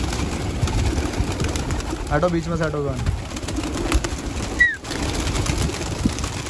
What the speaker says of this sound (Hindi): ये उड़ गए भाई कबूतर